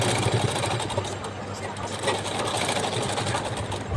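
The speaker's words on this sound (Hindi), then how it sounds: "मैंने ये डबल बूट से ही धीरे धीरे सिलाई लगा रहे हैं।" A sewing machine stitches a baby frock slowly with a double stitch, a steady close mechanical whirring and rapid needle chatter running throughout.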